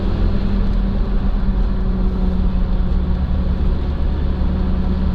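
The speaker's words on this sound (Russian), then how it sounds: "Подгуживает у нас резина, но не обращайте внимания, она относительно такая у нас злая." Aggressive off-road tires hum steadily on a UAZ Patriot SUV while driving, a low, constant drone with road and engine rumble underneath, no speech.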